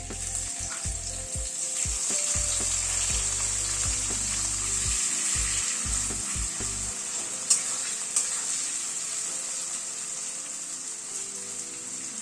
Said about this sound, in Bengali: একটা মিডিয়াম সাইজের পেঁয়াজ কুচি করে নিয়েছি সেটা দিয়ে দিচ্ছি